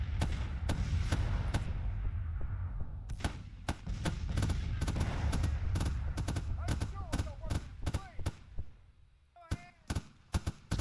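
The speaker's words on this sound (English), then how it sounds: "But I do have machine guns." Dense bursts of rapid machine-gun fire crackle loudly over a busy, rumbling Grand Tactician battle soundscape at Spotsylvania, with sharp isolated shots continuing as the din thins out.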